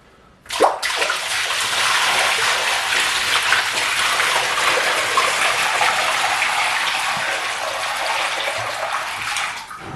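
Water gushes steadily into a shower pan during a flood test, a loud continuous rushing pour that starts abruptly and runs without pause, no talking over it.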